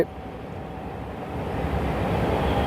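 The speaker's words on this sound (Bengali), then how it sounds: "ট্রেন চলে যাচ্ছে" A train rolls past fields beside a nursery, a deep rumbling drone that builds gradually louder, with a faint steady tone above the low rumble.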